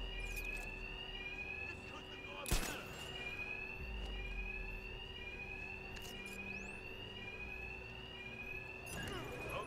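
An alarm rings in Batman: Arkham Knight, a repeating electronic tone looping steadily through the scene at low level, with brief impacts and background noise.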